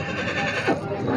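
A horse at a horse market gives a short, fairly close whinny over faint background noise, with no talk during it.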